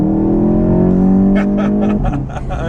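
A turbocharged 2015 Volkswagen Golf GTI Mk7 holds a loud, steady engine tone that drops off, followed by a quick series of short hissing chuffs from the blow-off valve.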